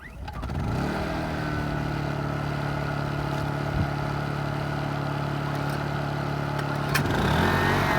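A 4.5-inch angle grinder powered by paralleled Honda and Kipor inverter generators spins up and holds a steady, loud whine over the generators' engine drone, with a brief surge near the end.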